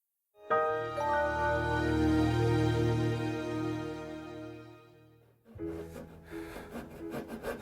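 A hand saw rasps steadily through a wooden crosspiece of a traditional Korean hanok window frame in long strokes, a sustained grinding tone, followed by a pause and rougher, choppier cutting.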